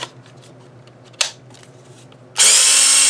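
An 18V Ridgid battery pack being spot welded on a DH20 Pro spot welder gives a sharp crack near the middle, then a loud, steady bright buzzing burst that starts near the end and holds to the finish, close up.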